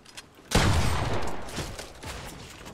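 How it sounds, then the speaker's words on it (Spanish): Gunfire in Fortnite: a sudden loud burst of shots opens, followed by a few scattered, softer rounds. "ya empezamos con los tiros medio raritos"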